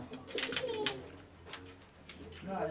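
A pigeon, one of a fancy-tailed breed, coos softly in a few short soft calls at close range, mixed with brief rustles and the quiet murmur of people nearby.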